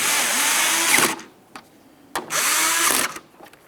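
A power drill drives the two mounting screws of a tail lamp on a 1998-2002 Lincoln Navigator, in two loud, close whirring bursts of about a second each, separated by a brief pause with faint clicks.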